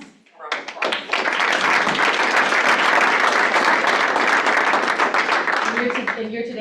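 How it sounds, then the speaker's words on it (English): A room of colleagues at a team meeting breaks into a round of applause, quickly swelling into dense, sustained clapping that holds for several seconds before a voice returns at the end. "Give your guys a round of applause"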